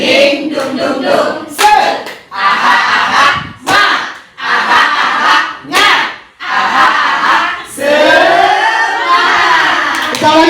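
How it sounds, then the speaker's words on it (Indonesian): A group doing the tepuk semangat spirit clap at a positive-culture school event, loud rhythmic bursts of clapping and shouted chanting in short repeated phrases with brief pauses between them. "Tepuk semangat"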